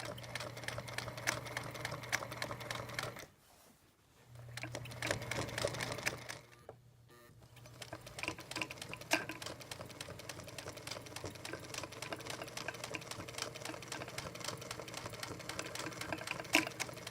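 A domestic sewing machine stitches a quilt top on a foundation, running in a steady whirring hum with two short pauses, then continuing with lighter rattling and ticking, close and fairly quiet.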